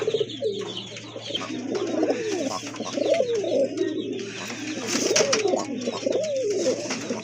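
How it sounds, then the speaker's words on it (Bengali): Several pigeons coo in overlapping, rolling calls close by, repeating steadily over a low constant hum. "আরেক জোড়া কবুতর কোয়ালিটি সম্পন্ন কবুতর"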